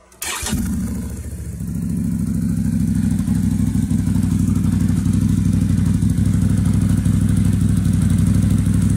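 A 2018 Can-Am Renegade XMR ATV engine with a Trinity tuner cranks and catches, then settles into a loud, steady rumbling idle close by, with no speech.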